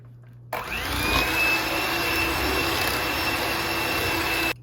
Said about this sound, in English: let's mix this all together.